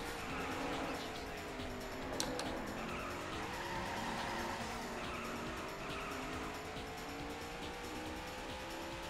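A racing video game car driven with a PXN V9 budget wheel, engine tone rising and falling steadily with a brief tire squeal, moderately loud and continuous throughout.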